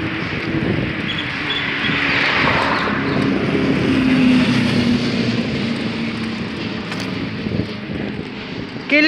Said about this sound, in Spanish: Bajo el celular porque me vino una moto